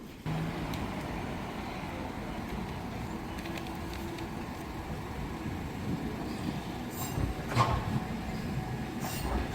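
A tram in Hakodate, Japan, rolls steadily along its rails with a continuous low rumble, faint wheel squeals and occasional clacks over joints, heard from inside the car.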